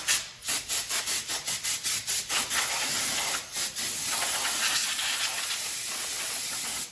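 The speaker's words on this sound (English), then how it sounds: "So with the compressor and nobody around, I just blew that out." An air compressor nozzle blows sawdust out of a wooden wine bottle holder, first in a rapid run of short hissing bursts, then one long continuous loud blast, close up.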